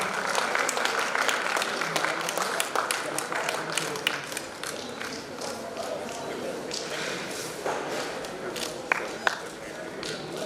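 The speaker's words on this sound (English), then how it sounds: "Give them a round of applause." A crowd claps steadily throughout a corporate and inter-business-school quiz competition, dense and sustained applause with some louder individual claps near the end, and a voice speaks over it.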